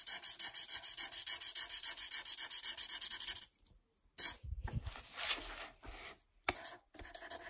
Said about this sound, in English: It's a crayola black marker